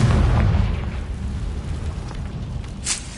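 A fiery Confringo spell blast in Hogwarts Legacy, a deep booming burst that fills the opening second then decays into a low rumbling tail, with a faint sharp crackle near the end.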